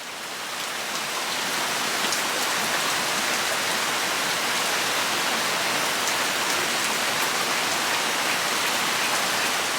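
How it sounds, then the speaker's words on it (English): Steady rain pours down, a dense even hiss of drops on surfaces that holds at the same level throughout, with no voices. "Oh, wow! It started to rain."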